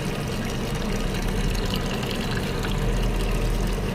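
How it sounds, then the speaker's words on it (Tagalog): Cold water poured steadily onto an air conditioner unit, a continuous watery splashing rush with a low pump-like hum underneath, close and constant with no talk. "Kailangan buhusan yung aircon ko ng malamig na tubig."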